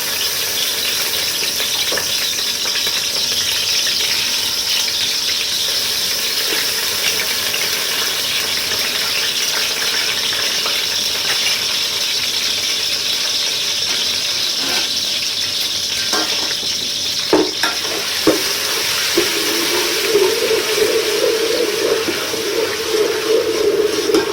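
Garlic ginger paste sizzles and fries in a hot pan with a steady, dense crackle throughout, growing slightly louder and brighter near the end as the paste is stirred.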